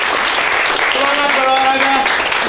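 Applause from a high school class during a math lesson, a steady wash of clapping through the whole moment with a voice talking over it.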